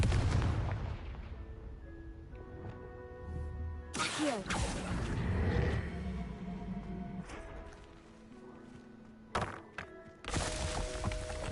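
In Hogwarts Legacy, the fiery Confringo spell is cast, producing loud booming blasts and thuds in bursts over sustained game music tones.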